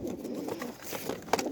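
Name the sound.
pigeon cooing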